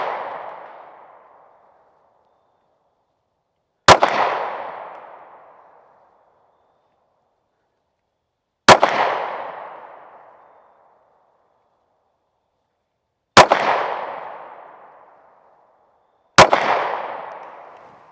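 Sig Sauer P365 X pistol shots fired at target dots, four sharp, loud single reports spaced several seconds apart, each followed by a long echoing decay into silence, with no talking.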